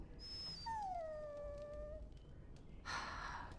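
A dog in the video game Dragon Age Origins gives a soft, drawn-out whine, a single falling nasal whimper lasting about a second and a half, faint over low background ambience and followed by a brief rustle.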